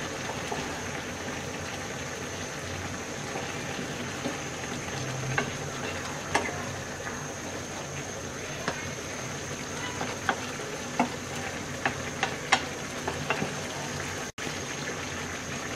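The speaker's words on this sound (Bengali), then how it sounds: "এবার আমরা হালকা হাতে নেড়ে দিচ্ছি।" Small fish and ridge gourd chorchori sizzling and frying in a pan while being gently stirred, a steady bubbling hiss with scattered soft scrapes and ticks of the spoon, no talking.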